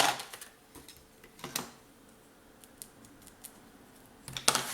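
Scissors snip paper for a scrapbooking album, a few soft, short cuts spread apart and heard close in a quiet room, with a louder cluster of snips at the end.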